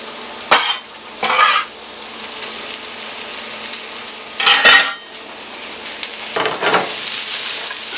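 Onions and peppers hit a hot pan with browned hot dogs, a steady close sizzle of frying broken by several sharp bursts of utensil stirring and scraping.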